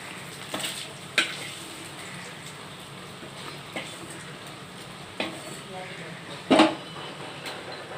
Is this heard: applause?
no